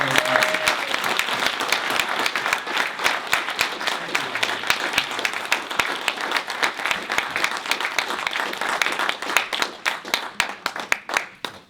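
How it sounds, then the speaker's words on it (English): An audience at a health care forum in a hall claps warmly to welcome speaker Wendell Potter, a sustained, dense round of applause that gradually thins toward the end. "So put your hands together and let's welcome"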